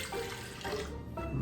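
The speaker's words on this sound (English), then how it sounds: "And we're gonna pour the vinegar into this jar." Vinegar from a big bottle pours into a jar, a steady, fairly loud rushing splash of liquid that continues through the short moment with no talking.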